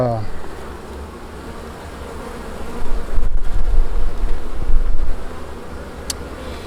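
Honeybees buzz steadily at an open beehive during queen-cell collection, a dense close hum that swells louder midway, with faint handling noises and no speech.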